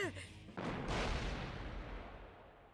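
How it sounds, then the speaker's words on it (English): In the fighting game Persona 4 Arena Ultimax, a sudden loud boom bursts out after a brief moment, followed by a long rumbling roar that slowly fades away. "Suddenly, there's an explosion so loud, I think my eardrums are blown out."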